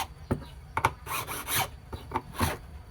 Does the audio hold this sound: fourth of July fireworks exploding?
no